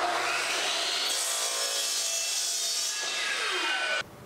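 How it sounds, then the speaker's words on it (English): A miter saw slicing through vinyl plank flooring in a basement, one loud, close, continuous cut of about four seconds that ends abruptly as the blade winds down. "if I'm just cutting straight lines, the miter saw is the best way to go"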